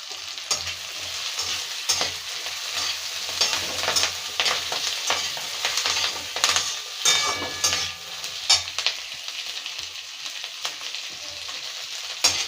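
Curry leaves and capsicum fry in hot oil for a chilli soybean dish, giving a steady close sizzle with intermittent spatula scrapes and stirring clatter throughout.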